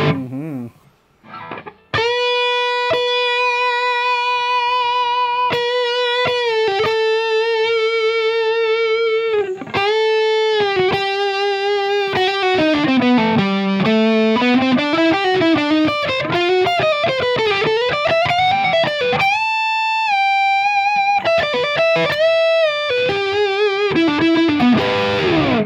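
A 2019 Gibson Les Paul Traditional through heavy distortion plays sustained, bending lead notes with a thick, saturated tone, loud and continuous.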